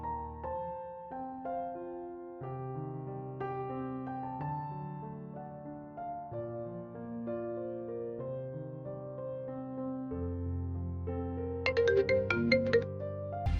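A phone ringtone plays a steady melodic tune of sustained tones for about fourteen seconds, growing busier and louder near the end, with no one talking over it.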